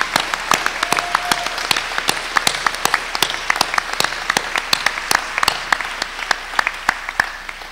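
Crowd at a rally against police terror applauding students, a close, crisp spread of individual claps in a loose, sparse rhythm rather than a dense roar.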